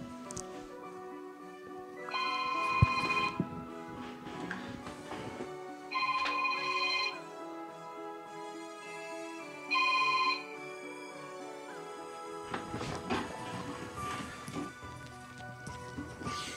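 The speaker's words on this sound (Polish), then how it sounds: "Telefon mi dzwoni." A phone rings in the game Guardian Tales in three separate bursts of a bright repeating tone, each about a second long, over steady background game music.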